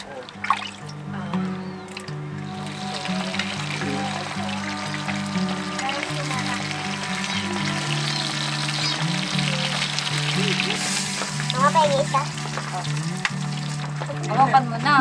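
Oil sizzles and crackles continuously as scavenged leftover food fries, with a steady hum and occasional clinks, and voices talk faintly in the background.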